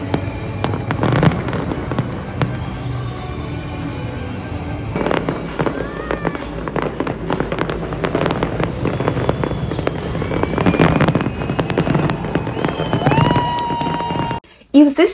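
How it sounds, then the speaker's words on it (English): New Year fireworks over Paris, loud repeated booms and crackling bursts echoing through the city, with music and voices underneath before a brief drop near the end. "We watched the fireworks in comfort, surrounded by music, history, and friendship."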